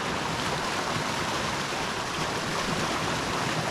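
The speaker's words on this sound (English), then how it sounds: "So this is Minnehaha Creek," Minnehaha Creek flows over rocks in winter, a steady, close, full rushing of water with no voices.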